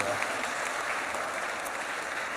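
A church congregation claps during a sermon, a continuous wash of applause at even loudness that fills the room throughout.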